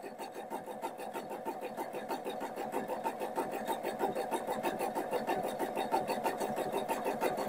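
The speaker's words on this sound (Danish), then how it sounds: "Jeg syr hele knaphullet færdig. Maskinen stopper jo selv, når den er færdig." A sewing machine stitches a buttonhole over a filler cord, running with a fast, steady mechanical rhythm of needle strokes that holds an even, close level throughout with no talking.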